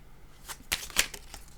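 A deck of cards is shuffled close by in a quiet room: soft, scattered riffling bursts with two sharper snaps in the middle, and no talk.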